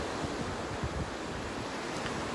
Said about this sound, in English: I let myself have the soul medicine, the crashing waves.